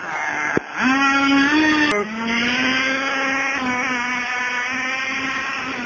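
A 4x4 nitro RC car engine runs close and loud, giving a high buzzing whine that rises and falls as it is revved, then settles into a steady drone after a sharp click.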